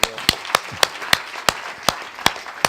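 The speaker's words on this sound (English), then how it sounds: "So a massive clap to our organizers." Sharp, evenly spaced claps ring out about three times a second in a hall, thanking the organizers at the end of an astronomy winter school session.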